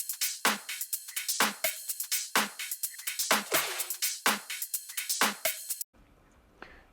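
Tech house drum loop with a steady kick, clap and snare hits, ticking hi-hats and a busy top loop, looping in a tight, punchy rhythm for about six seconds before cutting to near silence.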